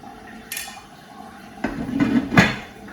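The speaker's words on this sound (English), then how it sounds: "Cover the pan." Metal clanks and clatters as a lid is set onto a pan of lamb stock on the stove, a few close knocks and a rattling settle.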